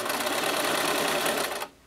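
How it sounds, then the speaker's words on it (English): A sewing machine running a zigzag stitch at 2 spacing with a 90/14 needle, a loud, dense, steady whirring rattle close up that stops abruptly near the end. "Here's the settings we're going to be using on the sewing machine."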